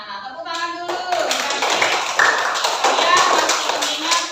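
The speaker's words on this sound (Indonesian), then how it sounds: "tepuk tangan dulu" A class of children claps hands together in a classroom, with rhythmic clapping close by and voices calling out over it.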